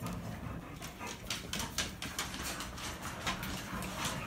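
A female dog whimpers and pants close by in rapid, breathy bursts with soft scratchy movement, continuing steadily without talk.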